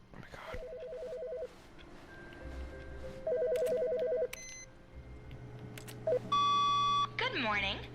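A telephone rings in The Stanley Parable video game, repeated bursts of trilling electronic rings separated by pauses, then a few brief electronic beeps, heard alongside game music and ambience.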